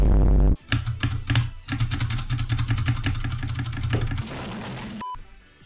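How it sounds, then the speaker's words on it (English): Close computer keyboard typing, a rapid run of clicking keystrokes over a low hum, ending with a short electronic beep. "I'm mainly here to listen to the space bar."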